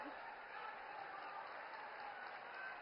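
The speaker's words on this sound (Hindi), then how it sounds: "जोरदार तालियों से मोदी जी के स्वागत में करतल ध्वनि से स्वागत कीजिए।" Steady applause from a large crowd at a political rally in Saharanpur welcoming Prime Minister Modi, dense continuous clapping filling the whole stretch with faint voices mixed in.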